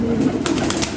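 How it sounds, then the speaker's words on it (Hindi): Young pigeons coo softly near a cage, a low rolling murmur with a quick flutter of wings, close and fairly loud, with no talk. "बिल्कुल कोरे कबूतर है।"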